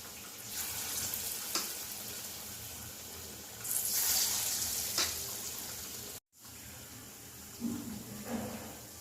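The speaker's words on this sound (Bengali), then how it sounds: "ভেজে নিচ্ছি লাল লাল করে একদম ভেজে নিয়েছি" Palm fruit fritters (taler bora) fry in hot oil with a steady, close sizzle that surges and crackles in bursts, broken by a brief silent gap before the bubbling resumes.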